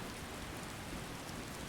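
Vanilla storm weather rain in a video game: steady, dense rainfall hiss with no pauses, even and fairly quiet, filling the whole moment without talk.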